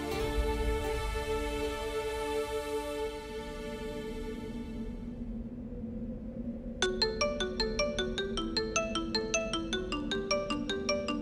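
A phone ringtone plays a repeating electronic melody, loud and close, after a stretch of sustained musical tones that fade out.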